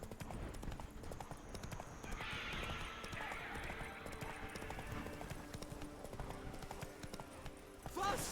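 Roach, the horse in The Witcher 3, gallops in a fast, steady hoof rhythm under a soft wash of game ambience and a brief hiss, with a faint voice murmuring behind.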